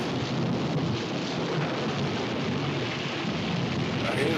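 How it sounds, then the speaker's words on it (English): Heavy rain pours steadily with low thunder rumbling beneath it in a scene from the film Tobacco Road, a loud, dense, continuous wash of sound with no voices. "He was right about that rain."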